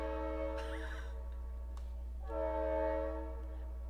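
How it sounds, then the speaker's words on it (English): A passing train's horn blares in two long, tonal blasts with a gap between, over a constant low rumble of rail traffic in a residential neighborhood. "These trains that go through my neighborhood are pretty obnoxious,"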